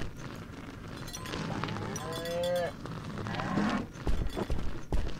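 In the video game Suicide Guy, a cow gives a drawn-out moo with a rising and falling tone over steady game ambience, followed by a few heavy thumps near the end.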